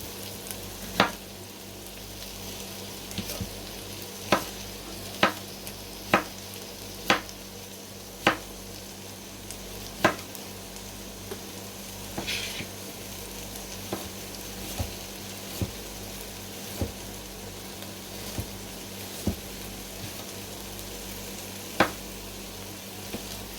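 Red cabbage fries in butter with a steady, soft sizzle, broken by a dozen or so sharp clicks and taps of a utensil against the pan at irregular intervals; no one speaks.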